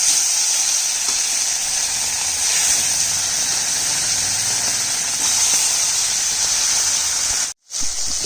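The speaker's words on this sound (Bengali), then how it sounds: "কেন কি মাছটা ভাজবো, তেলটা গায়ে ছিটে আসবে" Fish, a bata, frying in hot oil in a home kitchen, with a loud, continuous close-up sizzle and spatter that runs almost unbroken before a brief drop near the end.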